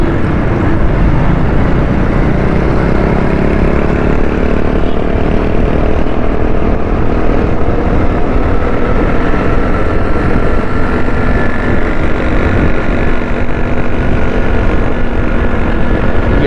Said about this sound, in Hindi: मैंने मोटरसाइकिल थोड़ी सी तेज़ कर दी है